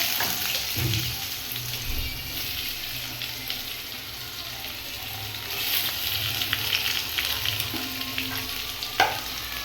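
Onion frying with popped mustard seeds and curry leaves in oil for a dried-fish kuzhambu, a continuous hissing sizzle with occasional stirring scrapes and one sharp knock near the end.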